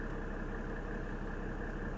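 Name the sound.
1997 Mercedes E300 diesel engine idling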